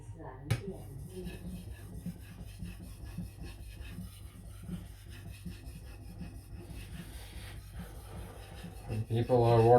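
A knife is drawn across a whetstone in repeated short scraping strokes, a faint, close rasping rhythm with brief clinks, ending in a louder scrape as the stone is flipped.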